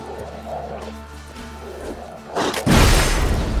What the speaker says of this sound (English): Jeez, these dogs deal damage.